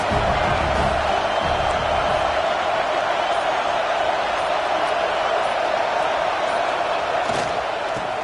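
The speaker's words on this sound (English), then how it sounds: "This crowd going to try to make life miserable for these guys." Stadium crowd noise from an NCAA college football video game featuring Penn State, a steady dense roar that stays constant throughout without pauses or distinct shouts.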